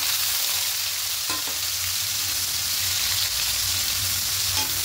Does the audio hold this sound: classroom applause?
no